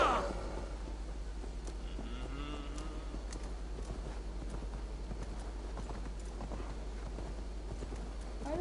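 Horse hooves clip-clopping steadily in a video game, a continuous rhythmic patter of moderate loudness running the whole stretch, with a faint game background hum underneath.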